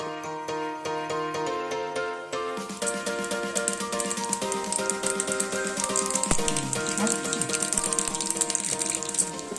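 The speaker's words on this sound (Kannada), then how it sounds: "ಒಗ್ಗರಣೆಗೆ ಎಣ್ಣೆ ಎಣ್ಣೆಗೆ ಸ್ವಲ್ಪ ಜೀರಿಗೆ ಸಾಸಿವೆ ಬೆಳ್ಳುಳ್ಳಿ ಹೆಸಳು ಮತ್ತು ಕರಿಬೇವು ಕೊತ್ತಂಬರಿಯನ್ನು ಹಾಕಿ ಇದಕ್ಕೆ ಒಗ್ಗರಣೆಯನ್ನು ಕೊಡ್ತಾ ಇದ್ದೀನಿ" Cumin, mustard seeds, garlic, curry leaves and coriander fry in oil as tempering for a North Karnataka pundi palya chutney, a close crackling sizzle that sits under background music.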